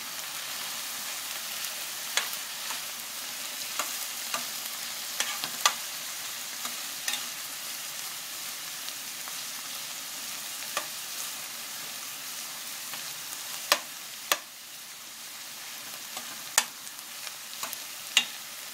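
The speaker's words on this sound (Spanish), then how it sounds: "Van a dejar ahí cocinar un poquito de los jalapeños, lo van a ir moviendo mientras que no se los queme también la cebolla." Jalapeños and onion fry in a pan with a steady, dense sizzle, while a spoon stirs them and adds scattered sharp scrapes and clicks throughout, close and alone with no talking.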